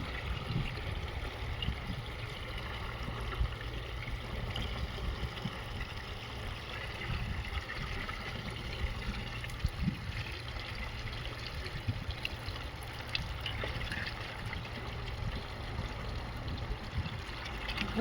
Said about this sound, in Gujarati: ફરી પાછું પાણી આવી ગયું